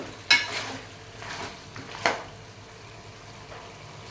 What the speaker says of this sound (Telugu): ఇట్లాగా ఆయిల్ బయటకు వచ్చేంత వరకు కూడా ముక్క ఆయిల్లో వేగితేనే టేస్ట్ బాగుంటుందండి